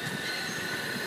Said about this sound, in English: Oh, that's a train in LA.